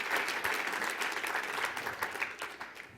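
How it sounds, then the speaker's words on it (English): A ceremony crowd at the AAU Sullivan Award applauds the athletes, a brisk, even wash of clapping with a few sharper individual claps, moderately distant and free of talk. "So please, one more round of applause for all of them."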